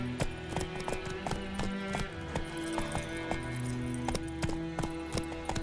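Horse hooves clip-clop at a steady trotting rhythm in The Witcher 3, close and distinct over a low background music bed, with a faint voice in the mix.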